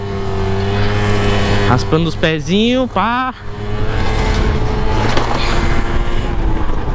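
Small motorcycle with a buzzy single engine holding a steady drone while ridden on the road, with brief revving pitch sweeps in the middle and wind noise, someone talking over it.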